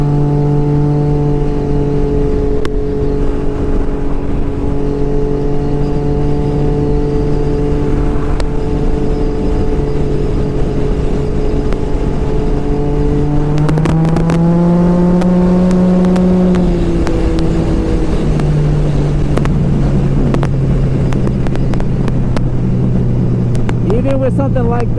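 Can-Am Ryker three-wheel motorcycle ridden through curves, a loud, steady engine drone with strong harmonics that climbs in pitch, peaks, then eases back, heard close up with wind buffeting.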